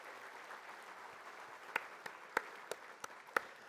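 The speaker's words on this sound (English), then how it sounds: "Now, big applause for all of our elected officials here today." Audience applause for elected officials at a regional transportation summit's opening session, a steady wash of many hands clapping in a hall with a few sharper individual claps standing out near the end.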